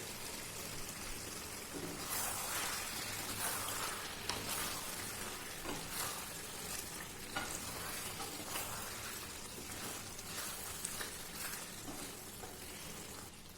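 Fried potatoes tumble into chicken frying in oil for a chicken pulao, giving a crackling sizzle with repeated stirring bursts and scrapes, all moderately close and steady.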